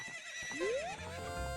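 A horse in the video game Ocarina of Time gives a rising whinny over soft game ambience and faint hoof clatter, fairly close and clear.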